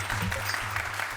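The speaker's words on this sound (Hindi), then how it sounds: "भाई तालियां।" A group applauds at a housing society meeting. The clapping is a dense, steady patter, moderately loud, across a brief burst with no break.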